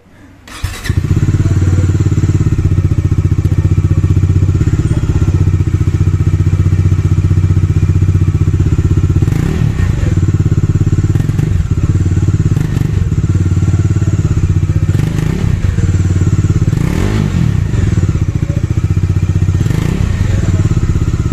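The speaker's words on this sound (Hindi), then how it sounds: "अब इसके एग्जॉस्ट साउंड सुन लेते हैं" A loud 2022 Bajaj Dominar 400 dual-barrel exhaust rumbling steadily at idle, with a few sharp revs and pops breaking through the deep, continuous drone.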